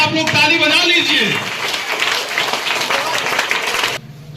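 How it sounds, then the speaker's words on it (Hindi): School audience applauding in a dense, loud burst of clapping that fades after a few seconds, with a voice speaking over the start. "अपने आप लोग ताली बजा लीजिए।"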